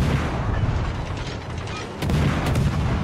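Heavy naval gun salvos from the Yamato battleship in a video game, deep booming blasts rolling under a dense low rumble, with a fresh louder volley about two thirds of the way through.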